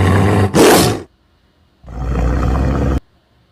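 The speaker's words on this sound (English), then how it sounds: "T for tiger." A tiger gives two loud, close roars, the first short and rough, the second a longer, deep sustained roar after a brief pause.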